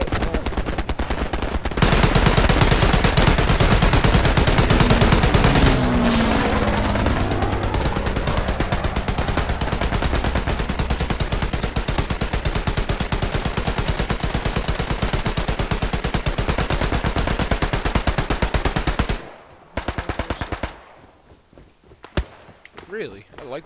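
Dense, continuous gunfire in the video game Hell Let Loose, rapid machine-gun bursts and rifle shots loud and close for about twenty seconds before dropping off to scattered shots.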